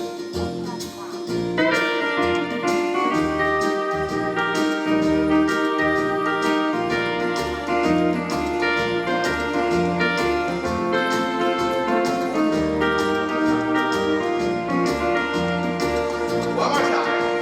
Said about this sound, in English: we're gonna use a nice Hawaiian guitar sound today to bring you to the island